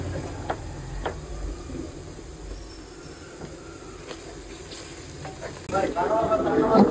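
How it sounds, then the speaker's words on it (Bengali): Spice masala with chili powder and a little coriander powder frying in a pan, a soft steady sizzle with scattered stirring scrapes, swelling louder near the end. "একটু মরিচের গুঁড়া দিয়ে মশলাটা সুন্দর করে কষায় নিব"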